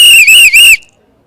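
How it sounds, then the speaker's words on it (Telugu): A single loud, shrill whistle is blown in a movie theater. It sounds close, breaks briefly twice, then cuts off into near silence. "ఇది చూడదు విజిల్, థియేటర్ మొత్తం విజిలే."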